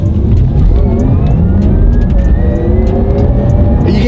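A 2020 Porsche Taycan Turbo electric car accelerating hard, its loud rising electric-motor whine climbing steadily in pitch with a brief shift-like step, heard close from inside the cabin.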